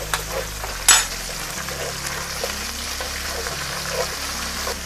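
Tomato paste is stirred into a frying gnocchi sauce, giving a steady sizzle and crackle with a sharp clank of the spoon on the pan, plus a low hum underneath.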